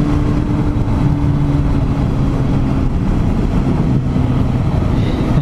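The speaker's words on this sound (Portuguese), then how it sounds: "pilotar a moto ouvindo esse ronco de uma 4 caneca" A Suzuki Bandit 650cc four-cylinder motorcycle engine drones steadily while riding, a loud, even roar mixed with rushing wind that never lets up across the whole stretch.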